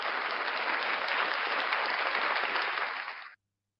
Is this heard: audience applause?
yes